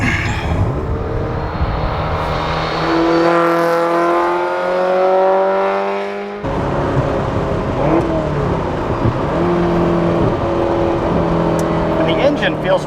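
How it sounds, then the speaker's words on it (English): A 1978 Ferrari 308 GTS fitted with individual throttle bodies and fuel injection revs up while driving, its engine note climbing in smooth, loud sweeps, dropping at a gear change and pulling up again, with someone talking over it. "It revs very cleanly and it makes really good power."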